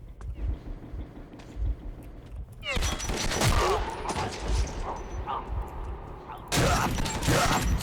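Gunfire in the video game Metro 2033 crackles in loud, dense bursts, one long burst in the middle and another near the end, mixed with yelps and voices.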